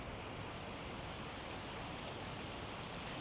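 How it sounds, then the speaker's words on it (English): A park water feature gives off a steady, even rush of splashing water, faint and constant, heard alone with no voices. "I do like the water feature"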